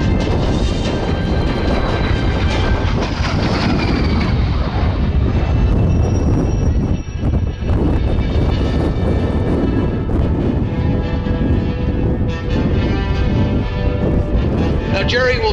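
A de Havilland DH-115 Vampire jet passes at the Los Angeles County Air Show, a loud, sustained roaring jet whine with shifting tones as it flies by, and a commentator speaks over it.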